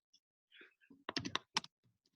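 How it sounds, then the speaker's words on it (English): Quick taps on a computer keyboard, a short cluster of close, faint clicks over about two seconds in an otherwise quiet room. "let me type these in."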